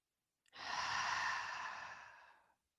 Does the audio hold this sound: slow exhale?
yes